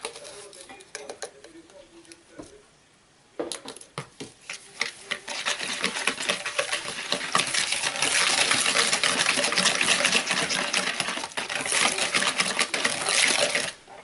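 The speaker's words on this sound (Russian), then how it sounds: "Взбиваю венчиком." A wire whisk beating Napoleon cake batter with sugar and vanilla sugar in a bowl: after a quiet start and a brief pause, a fast, steady, scratchy tapping rises and stays loud and close.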